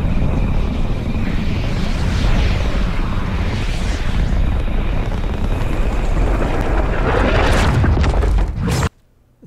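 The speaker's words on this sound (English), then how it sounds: "See, there goes missile." A missile launch in Fortnite Battle Royale, a loud sustained roaring rumble that swells and holds for several seconds before cutting off abruptly.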